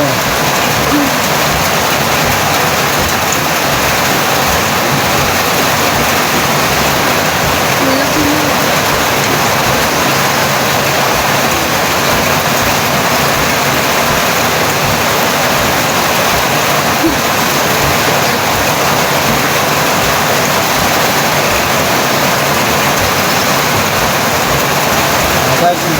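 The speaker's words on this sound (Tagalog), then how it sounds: "malakas ang ulan dito sa amin ngayon" Heavy rain pours down without a break, a loud, unbroken wash of hiss and patter that stays constant and close for the full length.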